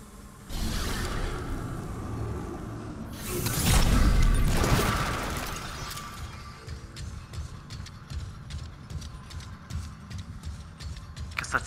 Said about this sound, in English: That's the sound of the gravity boots on my suit.